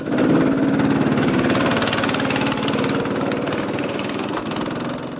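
Go-kart engines run continuously at a go-kart track during a race with driver changes, a loud, steady buzzing drone with a fast pulsing rhythm that eases slightly toward the end.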